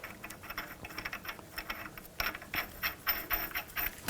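A hand ratchet tightens the axle nut on a 2000-2006 BMW X5 during front lower ball joint work, giving rapid, close clicking pawl ratchets in uneven bursts that grow louder midway, with no voices.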